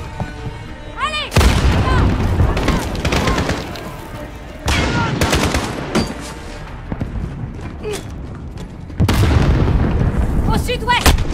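Grenade blasts and heavy gunfire from a Call of Duty: Modern Warfare campaign battle, loud bursts of shooting and booming explosions that start suddenly and surge again later, with shouted voices over the combat.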